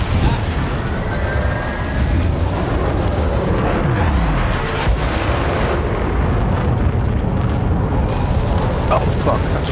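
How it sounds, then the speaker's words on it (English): Spaceships ramming each other in Elite: Dangerous on Xbox during pirate combat, a continuous loud rumbling roar of engines and impact noise filling the whole stretch, with players talking over it. "Oh fuck, I just rammed him under."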